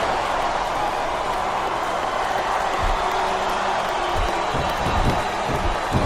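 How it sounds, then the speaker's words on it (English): A dense, steady crowd roar fills the arena in the WWE Smackdown vs Raw 2007 wrestling video game, rising slightly toward the end. "the crowd has come alive tonight with a chant"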